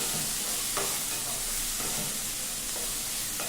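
Onions, green chili and tomato frying lightly in a kadhai, a constant soft sizzle with a few faint stirring scrapes, no voices.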